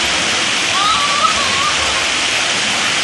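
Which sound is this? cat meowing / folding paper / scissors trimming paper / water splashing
water splashing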